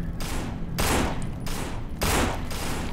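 Gunfire in the zombie shooter No More Room in Hell comes as a rapid sequence of loud, close bursts, with short pauses between the volleys.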